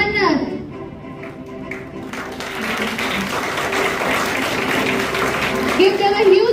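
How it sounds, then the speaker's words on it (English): School ceremony audience applauding the newly sworn-in student leaders, steady crowd clapping filling the hall after fading music and a loudspeaker voice, moderately loud and continuous. "Give them a huge round of applause."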